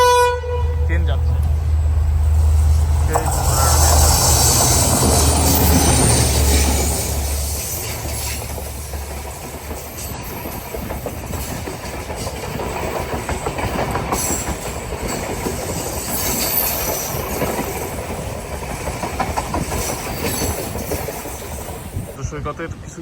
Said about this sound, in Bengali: দেখেছি যে ট্রেন যাচ্ছে